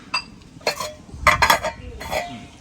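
Metal lid clinking onto a pot of fish curry with coconut, a few light clanks and rattles of cookware, close by.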